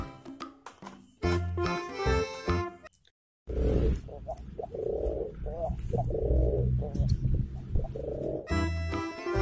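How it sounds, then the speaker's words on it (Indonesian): Two pigeons coo in soft, repeated low rolling calls, set between stretches of toy music. "ada dua burung merpati"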